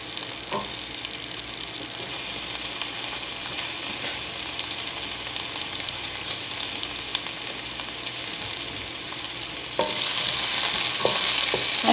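Onion and capsicum frying in a pan, a steady close sizzle that swells louder near the end, broken by a few faint utensil scrapes.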